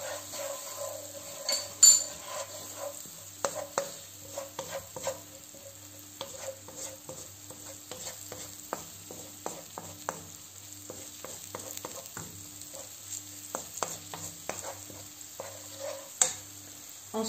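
Spoon stirring a seasoned mixture with Provence herbs, pepper and salt in a pan for a pasta gratin with minced meat, a soft sizzle underneath and repeated scraping taps close by.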